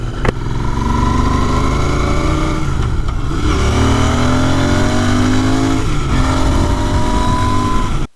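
Royal Enfield Interceptor 650 Mk 2 parallel-twin engine revving loudly and steadily up close, pitch rising and falling through several throttle blips with no talk.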